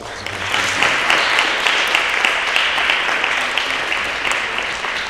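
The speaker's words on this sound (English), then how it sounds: "So please join me in giving them a round of applause." An audience at a school fall athletic awards ceremony claps in steady, sustained applause filling the room, a dense patter of many hands throughout.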